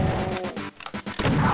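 Gunfire in the classic shooter Doom, played on a custom map: a run of loud, punchy shots and crashing impacts in quick succession, briefly dropping off before resuming, with no talk over it.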